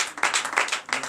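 Congregation clapping in acclamation during a night deliverance and prophecy church service, heard as a short burst of several rhythmic, moderately loud claps.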